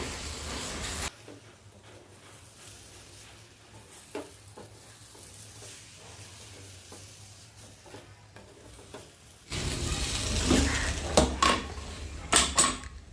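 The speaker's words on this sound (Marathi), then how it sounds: "साखर आणि रवा छान असं मिक्स करून घ्यायचं आहे" Sugar and semolina being stirred with mango in a pan for sweet mango sheera: quiet, sparse scraping for most of the stretch, then louder frying and stirring with sharp utensil clinks near the end.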